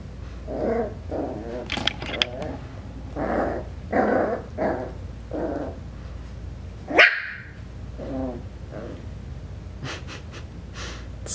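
A Coton puppy growls and lets out short yips and barks in scattered bursts, close and fairly loud, with small breaths and shuffling between them.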